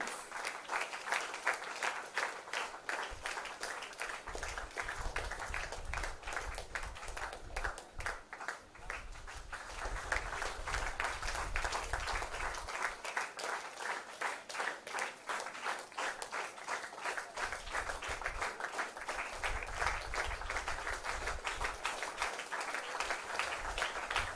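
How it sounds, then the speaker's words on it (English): Sustained applause from a large audience at a parents' orientation, steady and continuous throughout, with a brief dip partway through before the clapping swells again. "Give a clap to you."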